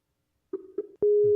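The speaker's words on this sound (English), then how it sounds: "We've got to call Delray Beach, Florida. Get on the phone, see if she's available" Telephone call to Delray Beach, Florida being dialed, a few short tones followed by a loud steady busy signal tone, close and alone.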